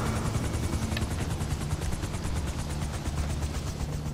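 Helicopter rotor in a video game chopping steadily throughout, a loud, continuous low thumping drone with faint rhythmic beating, no voices.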